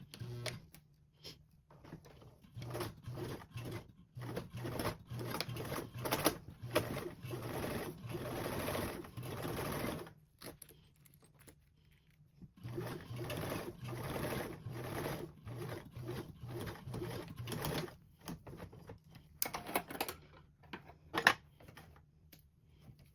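A sewing machine stitches a seam on a duffle bag in quiet bursts of rapid mechanical chatter, broken by short pauses between runs.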